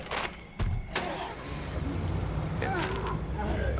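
A crew cab truck engine in the State of Decay video game runs steadily and fairly loud, a low continuous rumble with a few brief clunks near the start and light game sounds over it.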